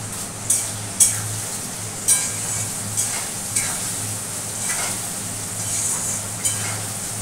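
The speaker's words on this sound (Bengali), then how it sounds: "দেখো লবণ হলুদ দিয়ে দিচ্ছি, আলুগুলো ভাজা হোক" Potatoes fry with salt and turmeric in a pan, a continuous close sizzle broken by several sharp spatula knocks and scrapes as they are stirred.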